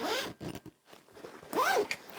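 A zipper slides open on a handmade, fully lined upholstery-fabric bag, two quick close rasping pulls separated by a pause, fairly quiet with no voices.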